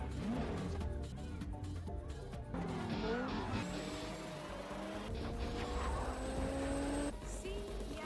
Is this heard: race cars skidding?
yes